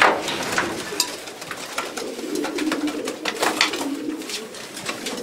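Pigeons coo in a loft housing hens, giving a continuous murmur of soft, overlapping calls with occasional sharper wing or foot noises nearby.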